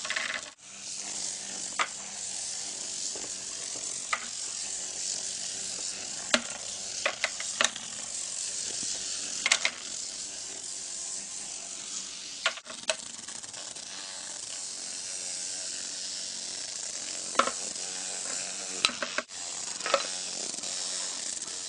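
A toothbrush-head Bristlebot robot buzzes steadily as its small vibrating motor runs, a continuous hiss-like rattle with sharp clicks and ticks scattered throughout as it skitters across a surface, with no voices.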